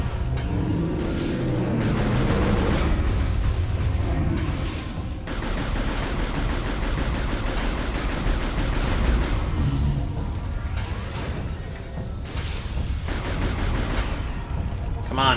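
Bombs explode in Metroid Prime 3: Corruption, heard as dense, continuous loud blasts and rumbling game effects with high electronic tones layered on top throughout.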